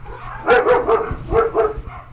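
Dogs barking at close range, a run of about five sharp barks in two quick bursts over a low background hum, with no talking.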